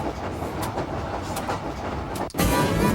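Alaska passenger train rolling along the rails, a steady close rumble with faint clickety-clack and a brief swell of louder noise near the end.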